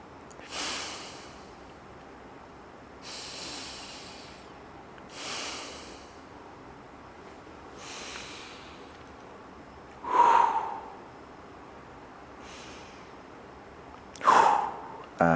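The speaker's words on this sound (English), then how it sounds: "3 or 4 deep breaths here" Slow deep breaths during a hip mobility stretch come as separate inhales and exhales, one every two to three seconds, fairly close and quiet, with two sharper, louder breaths near the end.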